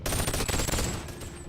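A rapid burst of gunfire from the yellow gun in the video game Boneworks. The close, loud shots come in quick succession and then fade into a short ringing tail.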